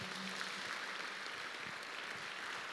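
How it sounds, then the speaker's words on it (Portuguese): A church congregation applauds during a worship service. The clapping is a steady, dense, even wash of many hands, heard from a distance, with no individual claps standing out. "Dá uma salva de palmas aí para Jesus."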